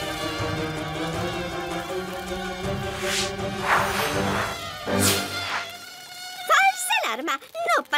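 A swarm of cartoon mosquitoes in an animated bee series, a loud, dense, high-pitched whining buzz with layered tones sweeping up and down, ending in a few sharp wavering swoops; no talking.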